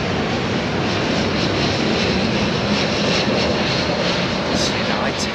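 A United Airlines airliner in old livery passes at Heathrow, its jet engines giving a loud, continuous broadband roar that stays dense and steady throughout, near and unbroken.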